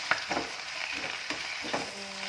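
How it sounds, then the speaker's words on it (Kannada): Spinach and chillies fry in hot oil for a palak pulao, giving a quiet, steady sizzle with a few soft stirring clicks close by. "ಪಾಲಕ್ ಹಾಕಿ ನೀಟಾಗಿ ಎಣ್ಣೆಯನ್ನು ಫ್ರೈ ಮಾಡಬೇಕು"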